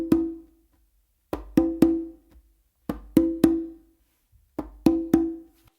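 Conga pattern of a finger stroke followed by two open tones, repeated three times in quick clusters with brief gaps, crisp and close with no voices.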